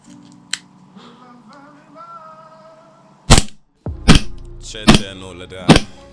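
A Vorsk Titan 7 Hi Capa 6.1 airsoft pistol fires four sharp, loud, close shots in a quick irregular series, after a quieter stretch with someone talking and a small click.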